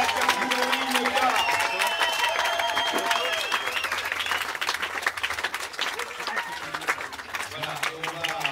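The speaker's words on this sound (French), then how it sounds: "On peut quand même les applaudir très fort." Crowd applause and cheering for the winning IMOCA sailors at a Transat Jacques Vabre prize ceremony, steady clapping that runs throughout with voices and a speaker talking over it.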